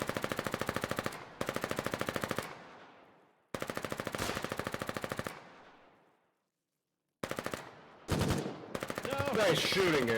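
Rapid machine-gun bursts crack out in the war game Foxhole on a colonial frontline, several loud rattling volleys with abrupt stops, a short silence, then more sustained firing.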